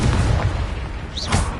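A Confringo explosive spell blast from Hogwarts Legacy erupts as a loud, booming burst that rumbles low, with a second whooshing flare near the end.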